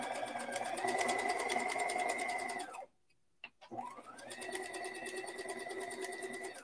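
A sewing machine stitches a tight zigzag in free motion embroidery on an old shirt's collar, buzzing steadily and close. It stops briefly in the middle with a couple of faint clicks, then starts up again and runs on.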